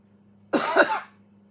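A single close, sharp cough, loud against a quiet background with a faint steady hum.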